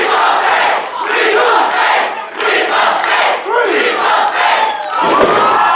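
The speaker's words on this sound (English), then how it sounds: "Listen to that crowd." A wrestling show crowd chants and cheers loudly in rhythmic waves, the massed voices rising and falling with each repeated phrase, close and energetic throughout.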